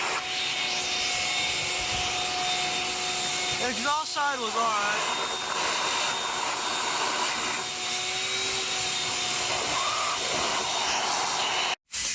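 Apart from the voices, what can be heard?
vacuum cleaner sucking debris out of Nissan Sentra engine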